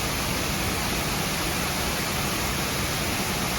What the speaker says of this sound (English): The waterfall cools people down in the summertime.